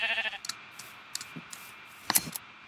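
A Minecraft sheep gives a brief bleat at the start, then scattered clicks and soft footstep-like ticks follow, with a short burst of game sounds near the end.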